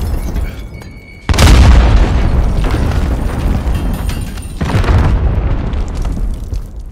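An RPG rocket blast in Call of Duty Modern Warfare booms suddenly and loudly, then rumbles on with a second heavy burst a few seconds later amid ongoing gunfire and battle noise.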